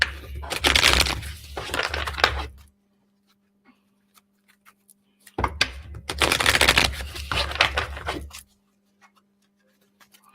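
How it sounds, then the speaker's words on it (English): A deck of oracle cards shuffled by hand in two bursts of rapid riffling flutter, close and crisp, separated by a quiet pause with faint taps. "I'll draw an oracle card for everybody."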